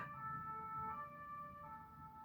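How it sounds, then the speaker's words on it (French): An ambulance siren passes at a distance, a faint steady wailing tone sitting under low background rumble with no talk over it. "C'est l'ambulance qui vient de passer."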